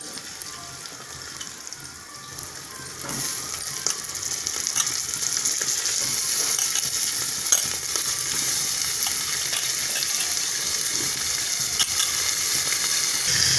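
Cauliflower and tomato pieces frying in hot oil for a Tamil kootu, a dense hiss that starts softer and swells to a steady, loud, continuous sizzle, close by, with no voices.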